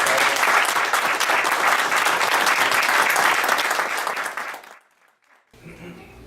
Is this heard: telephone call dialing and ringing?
no